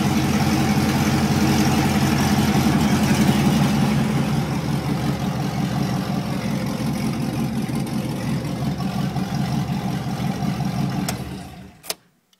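A 2004 Chevrolet Colorado with a swapped 4.8L V8 and LS2 cam idles steadily with a slight lope, loud and close for about eleven seconds before cutting off with a couple of clicks.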